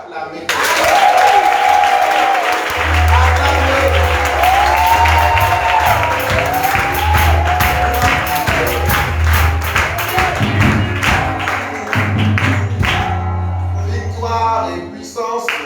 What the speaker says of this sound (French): Est-ce que tu peux acclamer?